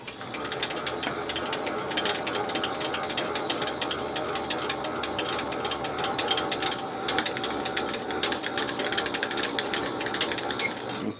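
A carbide end mill cuts metal on a milling machine, making a steady, close, continuous grinding and chattering that holds even throughout, with no talk.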